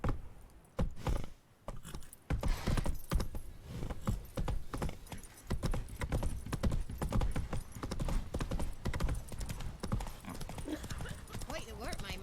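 Geralt's horse Roach gallops in The Witcher 3, rapid rhythmic hoofbeats pounding close and loud with tack jangling, while a voice talks over it.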